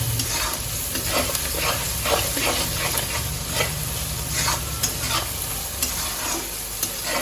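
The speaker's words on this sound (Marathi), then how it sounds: "आता आपल्या भाजीला कलर येईपर्यंत थोडासा वेळ ह्याला परतून घेऊया" Chopped onions and tomatoes sauté in a pan, with a continuous close sizzle broken by repeated scraping stirs of a spoon across the pan, and no voices over it.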